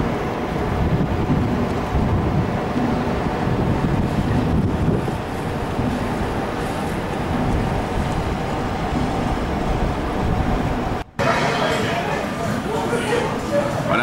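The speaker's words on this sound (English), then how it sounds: "A little windy." Wind gusts steadily by the Singapore River at Clarke Quay, a broad continuous rush buffeting the microphone close up for the whole stretch, broken once by a brief dropout.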